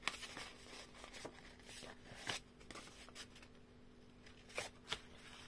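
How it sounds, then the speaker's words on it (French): Paper card being folded and creased for a handmade Christmas card, heard as faint, dry crinkles and sharp little creasing snaps spread over a few seconds, close by and quiet. "Donc là, on vient marquer nos plis."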